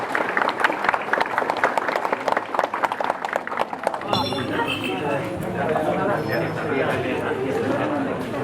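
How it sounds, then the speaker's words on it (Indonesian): A crowd claps together in sustained, loud applause that swells and holds steady, with faint voices mixed in at the start, at the inauguration of a Catholic church. "Kita beri tepuk tangan yang meriah."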